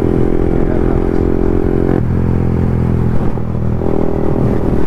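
A Yamaha MT-15 motorcycle fitted with an Akrapovic full-system exhaust rumbles loudly and steadily, the engine note shifting slightly as it holds near idle, with no talking over it.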